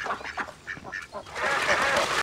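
Ducks from The Sopranos, a flurry of close, nasal quacks and honks in quick succession that swell into a louder, denser burst of calling at the end.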